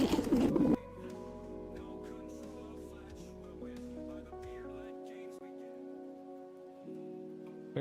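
Pigeons coo softly in short, repeated bursts, fairly faint beneath a steady background of sustained musical tones.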